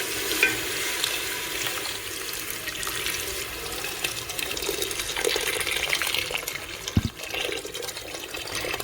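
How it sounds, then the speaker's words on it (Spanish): Hot water poured into a pot of onion, chicken and spices for Moroccan couscous, a steady washing, sizzling hiss running throughout with a brief knock near the end, no talking. "Vamos a echar las epices que tenemos aquí, todas, así. Y luego agüita caliente."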